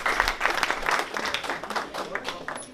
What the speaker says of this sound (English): Round of applause already, please, for this guy